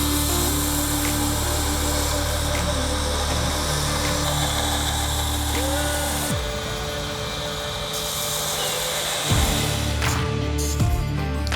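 A belt grinder runs steadily on a hunting knife blade, cleaning up the edge, with a continuous loud whine and motor hum, then pitch drops as it spins down and briefly restarts.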